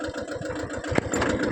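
A mini tractor engine runs steadily in a sesame field, a continuous mid-pitched mechanical drone with a brief louder knock near the middle, close and alone with no talk.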